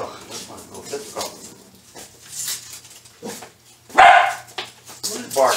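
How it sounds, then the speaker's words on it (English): A dog barks several times in short bursts, one loud nearby bark standing out, with a person talking in a kitchen between and around the barks. "What are you barking for?"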